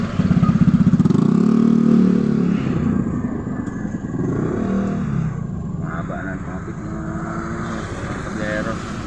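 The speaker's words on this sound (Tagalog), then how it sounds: "So nabutan tayo ng traffic." Morning road traffic at an intersection, with motorcycles and cars rumbling past close by, engine noise swelling and fading under someone talking throughout.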